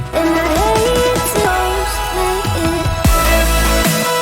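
A future bass build-up with layered synths and added snare drum hits pushing the tension, loud and continuous.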